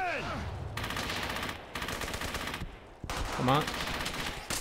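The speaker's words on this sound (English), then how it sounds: "I think I managed to shoot one." Bursts of gunfire from a World War II shooter, Brothers in Arms: Hell's Highway, crackle in rapid rattling volleys, near and loud, with short gaps between bursts while a voice speaks briefly over them.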